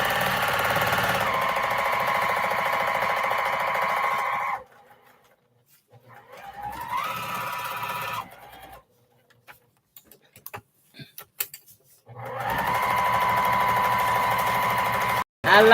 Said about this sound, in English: I like sewing this in a circle.